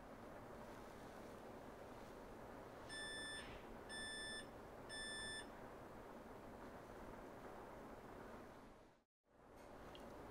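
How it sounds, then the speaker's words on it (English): A Lexa sterilizer signals cycle completion with three short, evenly spaced electronic beeps over a steady background hum, followed by a brief dropout. "Audible beep tones signal when the cycle is complete."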